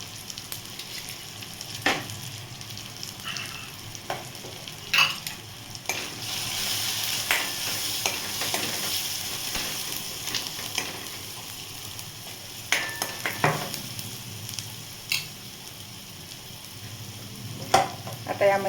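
Onion-coconut masala, coriander powder and turmeric fry in a pan for a drumstick curry, giving a soft, continuous sizzle close up, broken by recurring scraping clacks of a spoon stirring against the pan.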